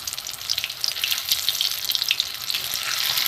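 Egg-coated brinjal rolls deep frying in hot oil, a bright continuous crackling sizzle with popping bursts, close and steady throughout, no voices.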